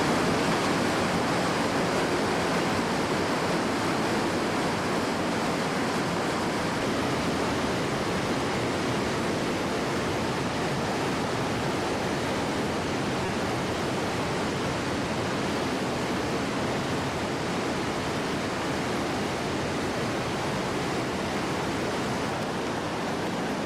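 Waterfalls above and below a salmon creek in Alaska roar in a steady, broadband rush of falling water, constant and fairly loud throughout with no voices.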